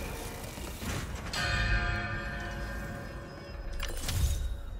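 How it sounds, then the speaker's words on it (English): Bell ringing in Marvel's Spider-Man 2, two heavy metallic strikes a few seconds apart, each leaving a long shimmering ring, moderately loud and with no talk. "Now to ring the bell."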